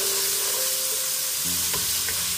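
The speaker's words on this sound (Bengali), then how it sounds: "একটু ভেজে নেব পেঁয়াজটা।" Chopped onion hisses loudly in hot oil in a constant close sizzle, with a couple of spoon scrapes and a faint tonal hum in the background.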